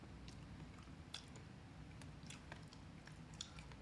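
Cake being chewed and bitten close up, soft wet mastication with a few sharper crunchy bites standing out against a steady low background, no talking.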